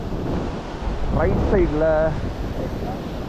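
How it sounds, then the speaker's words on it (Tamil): Heavy ocean waves and strong wind roar at the shore during a morning fishing outing, a continuous loud wash with wind buffeting the microphone while someone speaks over it. "அலை பயங்கரமாக இருக்குது"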